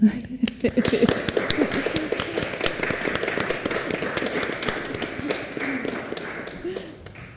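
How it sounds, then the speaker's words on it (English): Applause at an exhibition event: a room of people clapping steadily for several seconds, close and lively, with a few voices mixed in and the clapping thinning gradually toward the end. "Applause for Pawel."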